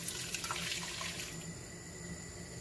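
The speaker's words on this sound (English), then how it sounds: "So let's pour that in." A liquid ingredient is poured into a Thai red curry in a kitchen, making a steady splashing stream that fills the whole moment with no talk.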